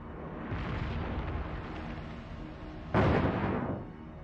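A torpedo strikes a ship in a World of Warships match, heard as a low rumbling roar followed by one sudden loud explosive burst that slowly fades.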